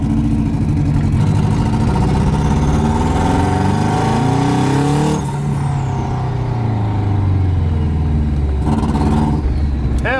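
Turbocharged AWD JDM rally car engine pulling loudly up through the gears, revs climbing and dropping at each shift, heard up close and continuously for the whole stretch without speech.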